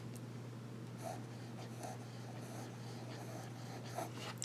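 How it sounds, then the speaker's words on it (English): Vintage Sheaffer fountain pen nib writing smoothly and wet on paper, faint scratchy strokes repeating every second or so beneath a steady low electrical hum. "The nib writes very well, smooth and wet."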